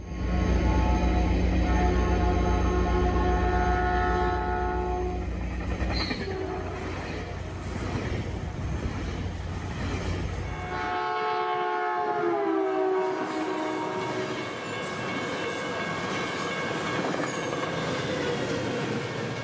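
Northbound train 239A roars through Menlo Park station in a long, loud pass of heavy rumble and clattering wheels, the horn sounding before the rush fades into lingering rail noise and a faint voice.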